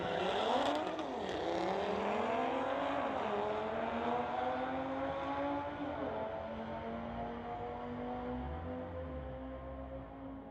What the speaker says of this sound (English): Tower side, we've got Lauren Stewart, 2018 Audi going against Jay Wang, 2019 Audi